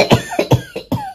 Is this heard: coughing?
yes